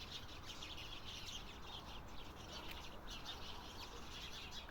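Small birds chirp at dusk near a cattle shed, a faint, rapid twittering repeating continuously over a constant hiss of background noise.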